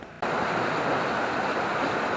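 A river flows beneath a narrow bridge on a countryside walk, its rushing water cutting in abruptly and then holding as a steady, full hiss close by.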